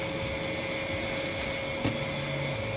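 A wooden yo-yo spinning on a lathe is sanded through progressively finer grits, giving a steady whirring hiss with a soft rubbing texture, close and continuous.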